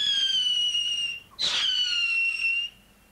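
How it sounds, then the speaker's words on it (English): A shrill, steady whistle from a 30-year-old Dutch whistle rocket firework, briefly broken by a sharp burst, then the whistle resumes before cutting off. "This tiny whistle rocket is 30 years old."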